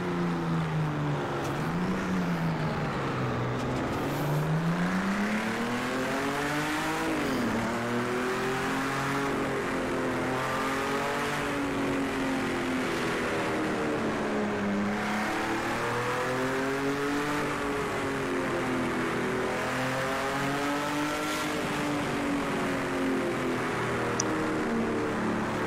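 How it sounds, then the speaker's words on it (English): AC Cobra engine in the Project Cars 2 racing game, loud and close, revving up and down through repeated gear changes with rising and falling pitch sweeps throughout, no talking. "the engine on the AC Cobra though, the noise that it makes"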